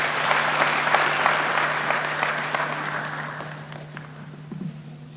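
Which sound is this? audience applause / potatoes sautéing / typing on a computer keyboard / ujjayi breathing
audience applause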